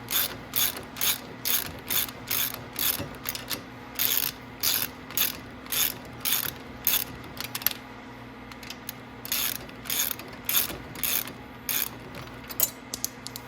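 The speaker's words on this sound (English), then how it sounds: "We'll go ahead and take this bolt out." Rapid ratchet clicks as a bolt is backed out of the rear end of a Venom 1500W E-Grizzly electric ATV, coming in short repeated bursts with brief pauses, close and fairly loud over a low steady hum.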